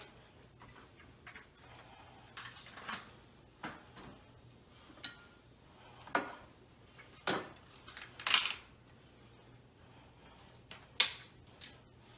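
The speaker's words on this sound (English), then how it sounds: "next we want to cut up our celery" Celery being cut in a home kitchen gives sparse, quiet knife taps and snaps at irregular intervals against a near-silent background.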